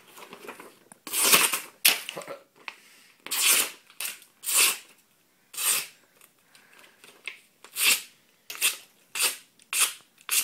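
A sharp handmade knife slices through material in a series of short, crisp rasping strokes, about a dozen close cuts with brief pauses between them.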